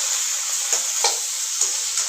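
Tomatoes and onions sautéing in oil in a pan give a steady close sizzle, broken by a few soft stirring scrapes and clinks.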